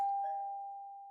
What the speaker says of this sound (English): But the pair hadn't even taken off their coats when the doorbell rang.